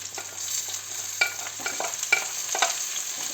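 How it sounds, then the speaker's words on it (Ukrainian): Fish and frozen mushrooms frying in oil, a steady close sizzle broken by several scraping stirs and soft pops. "І смажу її на олії."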